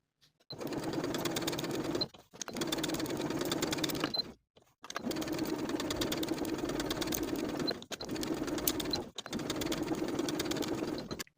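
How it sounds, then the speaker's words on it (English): A sewing machine stitches denim skirt pocket pieces in five steady runs separated by short pauses, a close, even whirring hum with no talking. "We're going to sew these pieces together along the inner curved edges, and for the top and side edges, we're going to baste in place."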